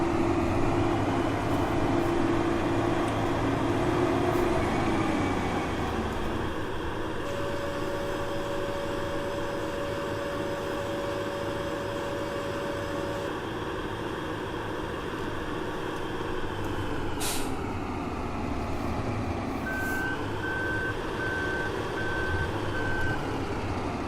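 Combine harvester in Farming Simulator 15 unloading grain into a trailer: a steady, droning engine and machinery hum that shifts in pitch and carries on throughout, with short beeping tones joining it late on.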